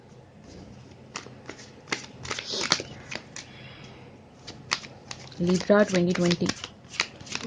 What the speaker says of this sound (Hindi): पहले एक शफल कर देते हैं अच्छे से।